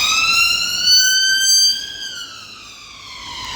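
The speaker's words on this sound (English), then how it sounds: "that's just an ambulance" Ambulance siren wailing nearby, a loud continuous tone that holds high and then slides steadily downward, heard alone without talk.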